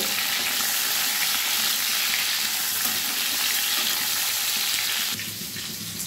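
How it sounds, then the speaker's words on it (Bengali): Chunks of papaya, sweet potato and raw banana fry in hot oil in a pan while being stirred, giving a loud, steady close-up sizzle throughout, with no talking. "রাঙা আলু আর কাঁচা কলা। খানিকক্ষণ আমি নাড়িয়ে নেব।"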